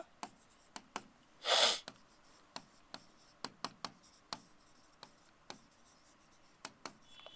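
Pen or chalk strokes while writing notes during a lesson, a run of short, crisp taps and scratches in an irregular rhythm, quiet and close, with one brief louder rustle near the start.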